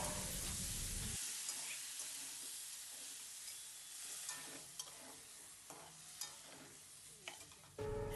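Water added to bottle-gourd and spinach greens cooking in a pan, with a loud burst of hissing sizzle that settles into steady frying and stirring scrapes.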